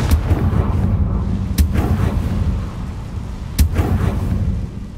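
Confringo fire blast spell in the Hogwarts Legacy video game, heard as a dense rumbling wash of game sound with two sharp booming bursts standing out, loud throughout with no talk.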